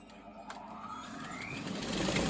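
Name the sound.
sewing machine stitching a scrunchie seam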